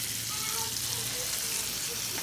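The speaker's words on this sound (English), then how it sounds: "You hear that sizzle, Dustin?" Pancakes sizzle steadily on a hot Blackstone griddle with the burners turned down a bit, a close, continuous frying hiss with no pauses.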